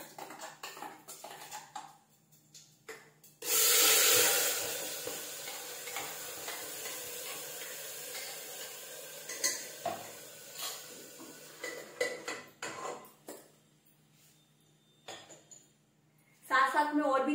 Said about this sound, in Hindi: तड़का लगा लेते हैं।